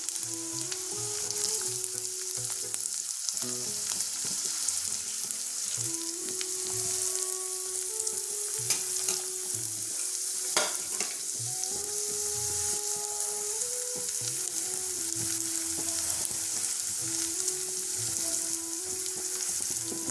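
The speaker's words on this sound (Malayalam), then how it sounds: "നന്നായിട്ട് ഇളക്കി കൊടുക്കാം." Chopped brinjal fries for a Kerala prawn theeyal, a constant close sizzle with occasional stirring scrapes and one sharp knock, no one talking.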